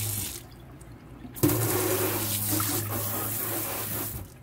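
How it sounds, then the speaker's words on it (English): A kitchen faucet turns on and water streams steadily into a sink, a close continuous splashing hiss after a brief quiet start. "I got a fancy new faucet here."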